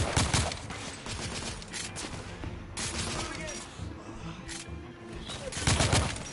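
Rapid bursts of gunfire in The Order: 1886, a Victorian-era shooter, crackling loudly and almost continuously with a few heavier shots standing out over the dense firefight.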